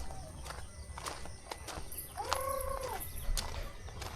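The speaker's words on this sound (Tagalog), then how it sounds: "Maraming manok." Chickens cluck faintly amid farmyard noise, with a clear drawn-out bird call in the middle and scattered taps and steps throughout.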